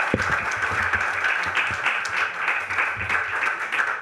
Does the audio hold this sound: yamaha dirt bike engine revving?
no